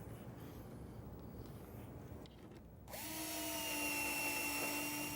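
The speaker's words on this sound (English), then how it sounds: "I'm just going to pocket screw it in place." A power drill drives pocket screws into a glued wooden face-frame cabinet, a steady close whine kicking in partway through after a quiet stretch of room noise and holding loudly to the end.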